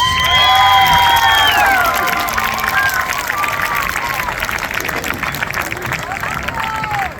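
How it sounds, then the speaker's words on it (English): A crowd applauds and cheers for the 1984, 1994 and 2014 Brush state championship football teams, loud continuous clapping with whoops and shouts and some whistling, carrying on throughout. "a round of applause for 84, 94, and 2014, and Coach Randy Dreitz and Coach Larry Mill"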